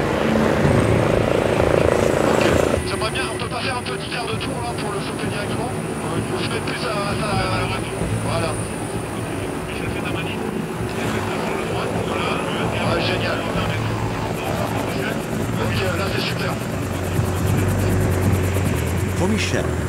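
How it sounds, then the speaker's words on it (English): A rescue helicopter hovers close over a glacier, its rotor thudding loudly and constantly with a high engine whine throughout, while a narrator speaks over it. "he asks the pilot to get as close as possible to the victim."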